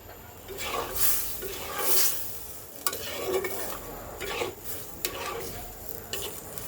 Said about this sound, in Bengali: এখন আমি এটাকে ঠিক তিন থেকে চার মিনিট কষাবো